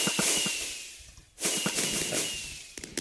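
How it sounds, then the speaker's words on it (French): Fireworks launching in Minecraft, two separate whooshing hisses that each rise and fade, followed by faint crackling pops and small clicks at the end. "ce seront des feux d'artifice."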